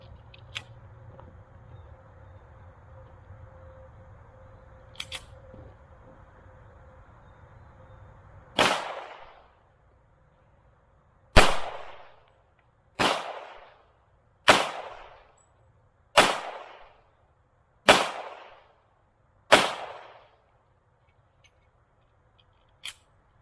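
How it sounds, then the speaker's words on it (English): A Springfield 1911 pistol chambered in .45 ACP fires seven loud, sharp shots at a steady, even pace outdoors. A quieter pop comes before them and a faint one after, with no talking. "Next up is the Springfield 1911, chambered in 45 ACP."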